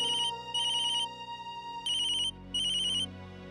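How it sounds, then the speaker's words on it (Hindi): An electronic phone ringtone plays a bright, repeating melodic pattern in short bursts, clear and steady with no voices. "फोन उठाइए"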